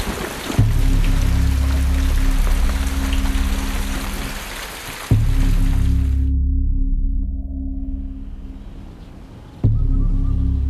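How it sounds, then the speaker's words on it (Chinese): Steady rain pours down hard in an even hiss, broken twice by sudden loud cuts where the sound drops and then comes back just as heavy. "下雨了，"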